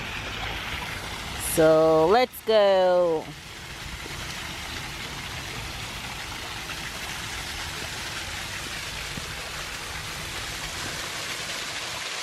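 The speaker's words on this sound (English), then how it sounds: "Look at this cool waterfall coming down" A waterfall in a botanical garden gives a steady, even rush of falling water throughout, with a short burst of voice near the start before the water noise continues alone.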